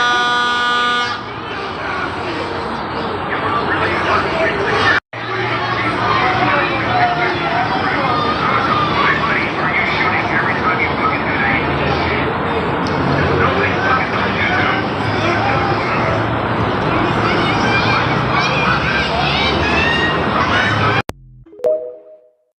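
Dense, continuous din of a protest crowd with shouting voices and honking horns, loud and sustained throughout, briefly cut once and ending abruptly.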